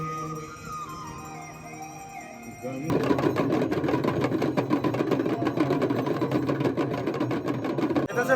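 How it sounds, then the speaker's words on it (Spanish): Motorbike engines buzz loudly in busy street traffic in Varanasi, India. The sound starts faint, then turns into a close, continuous rattling drone about three seconds in, with voices underneath. "Es una mezcla de gente, de motos"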